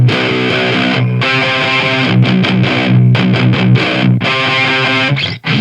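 Heavily distorted seven-string electric guitar through an Engl Fireball 25 tube amp with no effects, playing low, chugging riffs and sustained chords, loud and close, with brief pauses between phrases.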